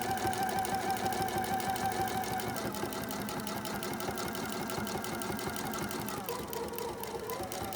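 A sewing machine runs steadily and close by, stitching the sashing seam of a quilt-as-you-go quilt with a continuous rapid mechanical whir that holds its pace throughout, with no voices.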